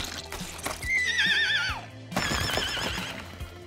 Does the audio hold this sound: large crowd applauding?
no